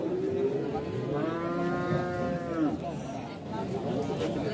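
A single long, low moo from Limousin feeder cattle rises and falls nearby, with faint background chatter of a busy livestock market in Pati, Indonesia.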